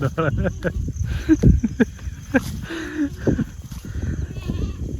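Goats bleat nearby in repeated short wavering calls. People talk at the same time, and their voices partly cover the animal cries.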